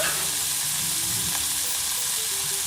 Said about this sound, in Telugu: దీనిలో మనం ముందుగా క్లీన్ చేసి పెట్టుకున్న చికెన్ ముక్కలు కూడా వేసుకోవాలి